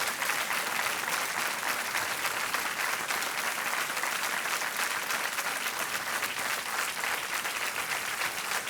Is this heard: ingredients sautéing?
no